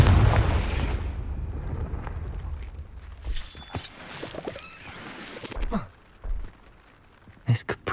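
Confringo fire spell detonating in Hogwarts Legacy, a booming, crackling blast with shattering debris, followed by several scattered bursts and pops over a low rumble.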